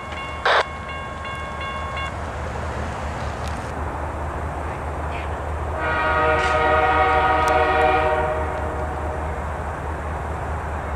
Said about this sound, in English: here we have Norfolk Southern 234 eastbound here at Yadkin Road in Chesapeake, Virginia